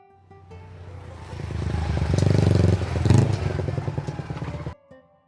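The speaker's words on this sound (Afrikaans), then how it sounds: "'n Motorfiets brul verby." A motorcycle roars past on the road, building from a distant approach to a loud, close rumble with clattering engine revs before cutting off abruptly.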